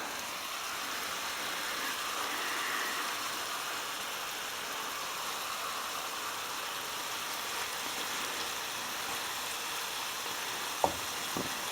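About two pounds of ground meat fries in a pan over maximum heat for a baked pasta dish, a continuous soft sizzle with one brief clack near the end.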